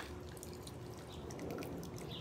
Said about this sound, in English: quite a bit of silver nitrate pouring off these crystals